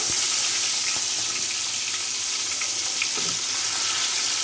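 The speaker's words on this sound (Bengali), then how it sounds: "এখন আপনারা এই যে মাছগুলো ভাজতে দিতে হবে, দিতেছি মাছগুলো ভাজতে দিতেছি" Pieces of rui fish frying in a pan of oil produce a loud, dense, even sizzle close up, a constant hiss with small pops throughout.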